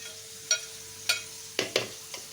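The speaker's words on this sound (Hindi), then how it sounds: "हिनखे असां चङी तरह सां मसाले खे भुञंदासीं" Spices frying and being stirred in a pan for fish korma, a soft steady sizzle under several sharp scraping clicks of the spoon against the pan.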